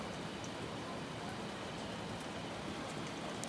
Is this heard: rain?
yes